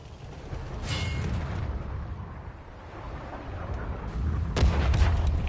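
Artillery fire in World of Tanks: heavy rumbling booms and distant blasts rolling continuously, with a louder impact near the end, no voices heard.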